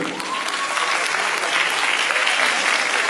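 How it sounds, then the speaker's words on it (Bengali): Loud, dense applause from a magic show audience fills the whole stretch, steady and close without letting up. "একবার জোরে হাততালি"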